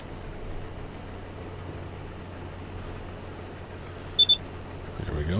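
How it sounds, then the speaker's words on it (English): In Farming Simulator, a double beep signal sounds twice in quick succession, short and clear, over a low steady hum of machinery. "There's the beep"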